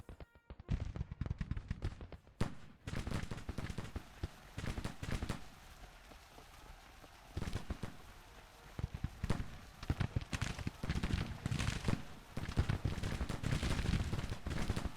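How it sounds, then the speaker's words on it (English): Artillery in the Civil War strategy game Grand Tactician: The Civil War fires in dense, rolling volleys, crackling with many overlapping booms that ebb briefly and then swell again loudly. "Artillery, fire at will, please."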